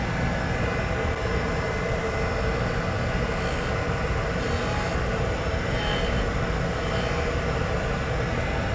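A grinding wheel dresses a metal surface, giving a steady, loud, continuous rushing hiss with a faint high whine that holds without pause. No one speaks.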